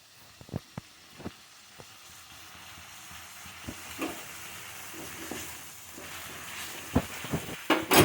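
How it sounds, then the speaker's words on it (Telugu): Soaked moong dal fries in hot tempering oil, sizzling and hissing steadily while a spoon stirs the pan with scattered sharp clicks and scrapes close by. "ఇప్పుడు దీంట్లో నానబెట్టిన పెసరపప్పు వేసి ఫ్రై చేసుకోవాలి."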